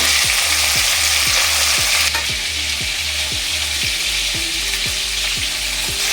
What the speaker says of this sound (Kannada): ಈಗ ಎಣ್ಣೆ ಕಾಯಿದ ಮೇಲೆ ಕೈಮಾ ಉಂಡೆನ ಹಾಕೊಂಡಿದ್ದೀನಿ